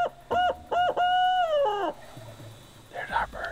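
A turkey hunter imitating an owl with a series of hooting calls, loud and close in a rhythmic run, followed by a faint distant reply; a voice imitates the owl.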